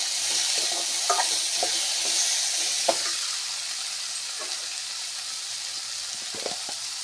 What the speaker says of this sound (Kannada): ಹಾಗೆ ಫ್ರೈ ಮಾಡೋಕ್ಕೆ ಸ್ವಲ್ಪ ಈರುಳ್ಳಿ ಮತ್ತು ಟೊಮೆಟೊ ಹಣ್ಣು, ಒಂದು ಅರ್ಧ ಟೊಮೆಟೊ ಹಣ್ಣು ಸಾಕು ಇದಕ್ಕೆ.